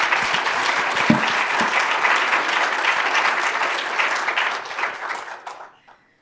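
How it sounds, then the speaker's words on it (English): An audience applauds loudly and steadily for several seconds before the clapping quickly dies away to silence. "Round of applause for our guests, please."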